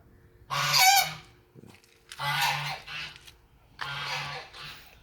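A domestic fowl outdoors by a flower garden gives three loud, honking bursts of calls, each separated by short pauses, close to the listener.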